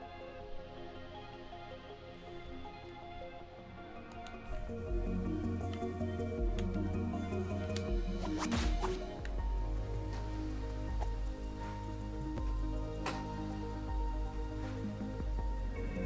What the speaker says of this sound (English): I was trying to run through the waterfall